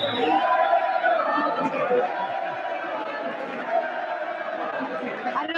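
Steady crowd chatter and cheering at a live fight event in Marbella, a dense continuous roar of many voices filling the background without pause.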